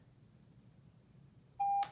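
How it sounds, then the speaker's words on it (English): A single sharp electronic beep from a shot timer used for holster draw practice sounds once, loud and clean, after a quiet stretch of room noise. "I'm going to set this timer up, and you'll get to hear it."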